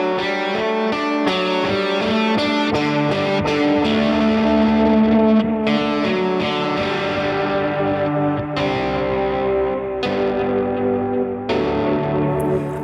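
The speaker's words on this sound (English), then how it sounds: "I'm going to add the delay to it so that you can hear what it sounds like." Distorted electric guitar from the Shreddage 3 virtual instrument by Impact Soundworks plays sustained chords and notes, each trailing into echoing repeats from a delay effect, loud and alone.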